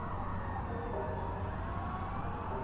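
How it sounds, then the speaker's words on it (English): Distant sirens wail steadily beneath a dense, continuous rumble, the sound hovering far off without clear rise or fall. "in the distance, you hear sirens beginning to approach"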